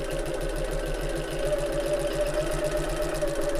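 A domestic sewing machine stitches steadily to close a turning gap in a fabric project, a low continuous mechanical whir with fast regular needle clatter, quiet and close, with no talking.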